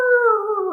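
A voice imitates a dog howling in a restaurant, a single close, loud, wavering howl that slowly slides down in pitch.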